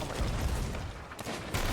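Cannon fire in the pirate game Sea of Thieves, heard as a dense, rumbling barrage of booms with several heavier blasts standing out near the end, loud and continuous with no talking.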